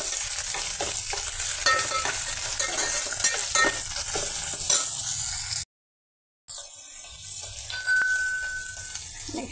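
Onion pieces fry in a pan for a Telugu taro (arvi) curry, giving a steady close sizzle with faint stirring scrapes, cut by a brief silent gap before the frying resumes.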